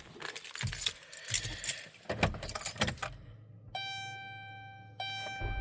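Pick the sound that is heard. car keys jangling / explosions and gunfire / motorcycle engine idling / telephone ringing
car keys jangling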